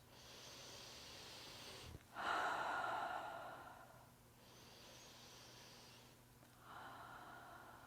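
A slow, audible breath in and out during a cardio warm-up, a long soft inhale followed by a gentler exhale and another breath, heard alone and fairly faint.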